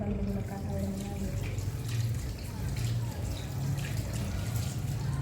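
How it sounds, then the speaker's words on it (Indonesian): Hands are rinsed under a running tap at a sink during a handwashing routine before a birth, the water hissing and splashing steadily at moderate level. "lalu bilaskan kembali menggunakan air mengalir."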